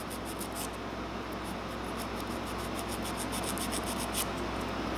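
A hand file rasps steadily back and forth across an acrylic coffin-shaped nail, a continuous close scratchy rubbing with quick repeated strokes and no pauses.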